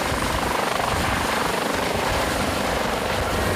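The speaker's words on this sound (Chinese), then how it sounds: "我们跟着吊挂分队一起搭上海豚直升机，要来准备训练" A coast guard Dolphin helicopter at Taichung's Ching Chuan Kang air base, its rotor and turbine roaring steadily and loudly close by, a dense unbroken drone with no voices.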